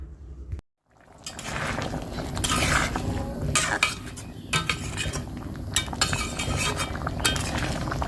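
Potatoes being stirred in a metal pot with salt and turmeric: close, continuous scraping and clinking of a utensil against the pot, loud and busy after a brief pause at the start.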